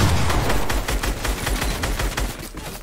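Fortnite gunfire: a rapid, steady run of loud shots in quick rhythmic succession, close and continuous with no talking over it.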